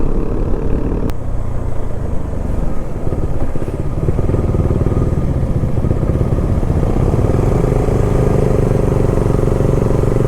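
Motorcycle on a rough monsoon mountain trail in Munnar, its engine droning steadily and loudly throughout with clattering over rocks, close by and continuous.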